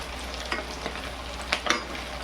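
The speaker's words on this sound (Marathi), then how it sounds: "त्यांना फास्ट गॅसवरच तळायचे" Rava medu vadas deep-fry in oil on a high flame with a constant dense sizzle and bubbling hiss, close up, and a few soft stirring clicks.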